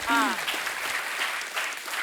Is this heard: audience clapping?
yes